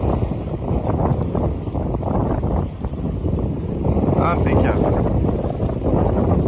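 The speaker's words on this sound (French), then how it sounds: "plus de 20 nœuds de vent réel. Toute la toile." Strong wind of over 20 knots roars across the microphone while a sailboat runs under full sail. Rushing air and water fill the clip, and someone speaks briefly partway through.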